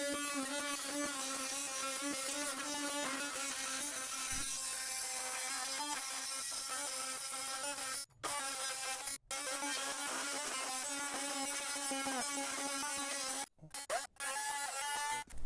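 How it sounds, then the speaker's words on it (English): A multi-tool or reciprocating saw cuts a rotten door threshold in half with a steady, loud, buzzing drone. The sound runs almost continuously and drops out briefly a few times. "use your multi-tool or Sawzall and just cut it in half"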